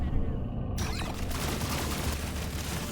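A plasma carbine fires in Deep Rock Galactic: Survivor, a dense burst of rapid shots that sets off sharply and continues as a steady crackling barrage with booming low rumble underneath.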